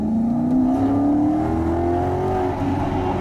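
A Maserati naturally aspirated V8 revs steadily upward, its engine note climbing in pitch over a few seconds, loud and close, with a constant rumble beneath and no talking.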